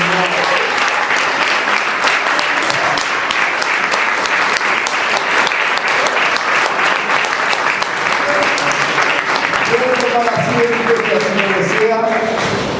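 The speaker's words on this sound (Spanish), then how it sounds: "Denle un aplauso, Señor." A church congregation applauds after a prayer, dense sustained clapping filling the room loudly for a long stretch, with voices rising near the end as it fades.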